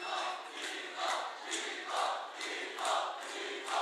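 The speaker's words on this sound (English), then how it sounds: "There's some Nico chants in the crowd if you guys can hear" A crowd at an esports fighting-game grand final chants a player's name in a rhythmic, repeating swell, distant and roomy with steady crowd noise beneath.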